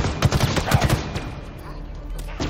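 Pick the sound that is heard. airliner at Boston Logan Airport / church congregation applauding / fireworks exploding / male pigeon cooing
fireworks exploding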